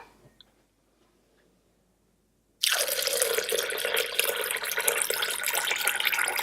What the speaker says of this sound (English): we need to add in 700 grams of water